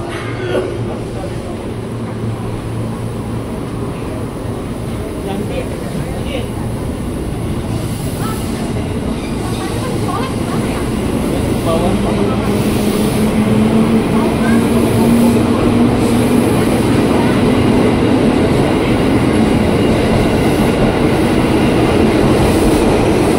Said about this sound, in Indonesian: komuter tujuan Depok